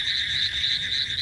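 Crickets chirp at night beside a village pond, a steady continuous high trill running unbroken over a faint low background hum.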